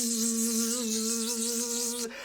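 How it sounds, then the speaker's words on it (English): Dense, steady buzzing like a swarm of bees in a royal beehive, used as a storytelling sound effect, droning loudly and evenly before cutting off abruptly near the end. "The bees all swarmed all around the tortoise"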